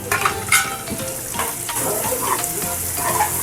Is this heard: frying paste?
yes